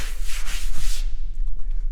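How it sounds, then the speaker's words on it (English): A grinder worked over a steel front fender patch panel on a 1967 Austin FX4, a loud, close, rough abrasive rasp lasting about a second before cutting off to quiet. "then I'll hit that with the grinder a little bit."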